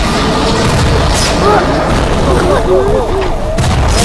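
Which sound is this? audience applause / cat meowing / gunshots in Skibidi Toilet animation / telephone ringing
gunshots in Skibidi Toilet animation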